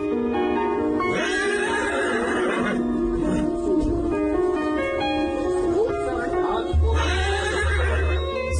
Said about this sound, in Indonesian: Suara rintihan sedih dari kuda ini seolah-olah ingin mengucapkan perpisahan terakhir untuk selamanya.